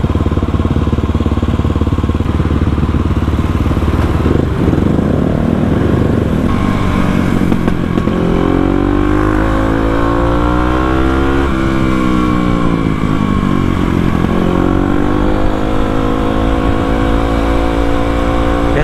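A motorcycle revs with the throttle held open, its engine roaring loud and steady close by, pitch rising and falling in long sweeps, with backfiring pops mixed into the drone.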